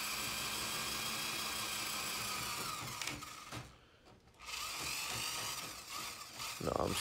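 A Bauer 23 ft auto-feed handheld electric drain cleaner whirs steadily as its cable feeds down a drain, a continuous motor drone that dips briefly, then returns at full strength with a rising grind at the end.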